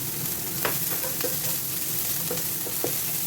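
Onion and garlic sautéing in a pan for a pork caldereta, a continuous close sizzle broken by several light clicks and scrapes of stirring, with no talk.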